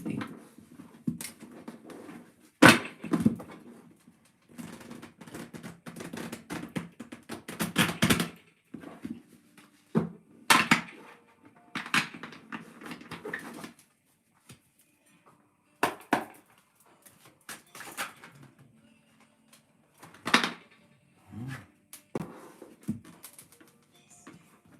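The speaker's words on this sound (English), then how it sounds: "Let's give it a good shuffling." Tarot cards shuffled by hand in bursts of riffling and clattering, with short pauses between rounds, close and fairly quiet with no talk.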